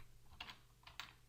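Keys on a computer keyboard being typed, a few quick quiet clicks in two short bursts close by.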